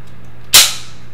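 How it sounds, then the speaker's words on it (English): One sharp, loud metallic snap as the decocker is pressed on a Sites Spectre HC 9mm pistol, close up and alone with a quick fade afterward. "I just pressed the decocker there"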